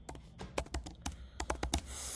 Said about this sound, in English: let's type out our prompt